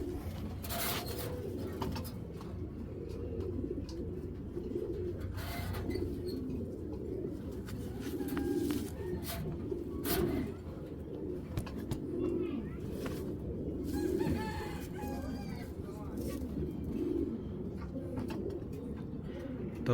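Racing pigeons coo steadily at a breeding loft, a soft low murmuring from several birds running through the whole stretch over a busy background of movement and faint chatter.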